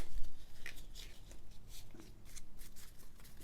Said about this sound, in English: Okay, shuffle? Sure, let's shuffle.